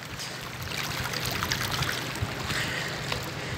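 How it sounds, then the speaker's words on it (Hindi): Water rushes down a mountain stream or small waterfall, a continuous close hiss and babble of flowing water with no voices over it. "ये पानी बहने की, कुदरती मिनरल वाटर।"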